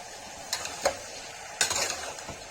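Ground tomato paste fries in a pan, giving a soft steady sizzle close by, broken by a few sharp scrapes and clinks of a spoon against the metal.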